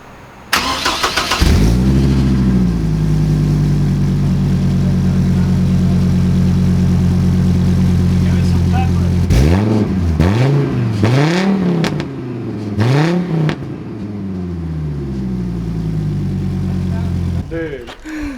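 A 2006-2012 Chevy Colorado truck with an axle dump exhaust starts up and settles into a deep, loud idle, then revs in several sharp rising and falling bursts before idling again, close to the microphone.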